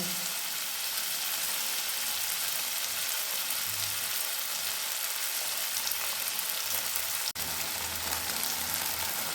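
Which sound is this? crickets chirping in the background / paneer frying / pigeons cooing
paneer frying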